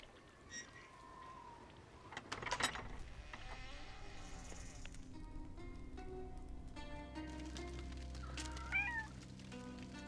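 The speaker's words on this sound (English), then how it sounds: "Touch the kitty." A cat in the ghost-hunting adventure game The Lost Crown meows several times, clear and close, among clicks and mechanical clatter with a low rumble building underneath, no talk.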